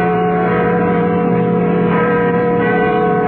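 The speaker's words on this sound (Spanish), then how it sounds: "Las campanas de catedral" Cathedral bells ring at midnight on New Year's on Mexican radio, a loud and continuous wash of overlapping metallic tones that sustains without a break.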